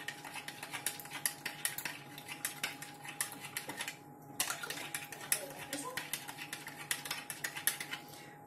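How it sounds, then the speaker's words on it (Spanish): A spoon clinks and scrapes quickly and steadily against a glass or bowl while yeast is dissolved in lukewarm water for spelt-flour empanadilla dough, with one brief pause midway. "El agua ya está templadita, vamos a deshacer aquí la levadura."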